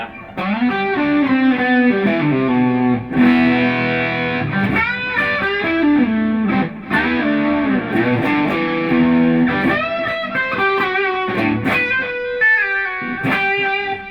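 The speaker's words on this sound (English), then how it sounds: "so that's the drive" A heavily overdriven electric guitar through a Diamond J-Drive Mk3 overdrive pedal plays a continuous riff with sustained, saturated notes and brief pauses, loud and upfront.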